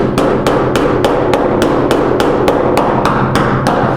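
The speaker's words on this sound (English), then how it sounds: "I'm going to use a little pointy thing here, a little awl, and I'm going to poke around" Sharp metallic taps ring out about a dozen times in an even rhythm, close by, as an awl pokes around rusty sheet metal on a Chevy or GMC truck during rust repair.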